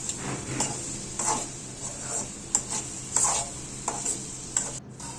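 Ginger garlic paste being stirred into frying cucumber pieces for a cucumber, tomato and prawn curry, with a steady sizzle and repeated scraping stir strokes in a pan.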